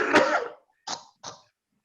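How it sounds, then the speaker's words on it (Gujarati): An older man coughs nearby: one long harsh cough followed by two shorter, quieter coughs with brief pauses between them. "અંકલ ને બહુ ખાંસી થઈ ગઈ છે"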